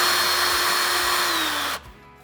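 Power drill whining loudly and continuously against a hard, rusty bolt on a Ford F350 Super Duty brake line bracket, the pitch sagging slightly before the motor suddenly cuts off, leaving a faint spin-down.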